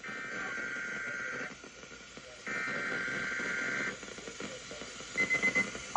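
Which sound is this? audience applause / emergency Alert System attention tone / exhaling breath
emergency Alert System attention tone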